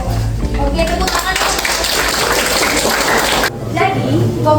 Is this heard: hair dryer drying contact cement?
no